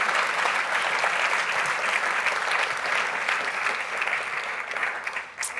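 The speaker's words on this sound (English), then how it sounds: "Let's give a great round of applause for all of our finalists." A crowd at a university Bull Ring event applauds the finalists, with steady, dense clapping that fills the room for several seconds and trails off slightly at the end.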